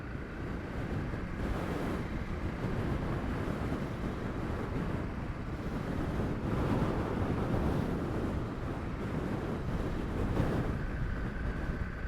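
Wind buffeting the microphone while riding a Honda CRF 300 Rally on a bumpy washboard gravel road, a loud continuous rushing roar with gusts swelling and fading throughout.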